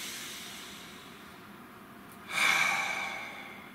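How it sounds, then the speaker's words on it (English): A single deep breath drawn in and then let out, close and soft, rising to a brief breathy hiss near the end over a quiet background. "Nice deep breath."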